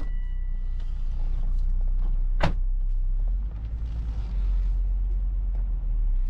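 A car being driven forward to check that it moves, a low steady engine rumble with a brief sharp knock or clunk partway through, close and continuous, no voices.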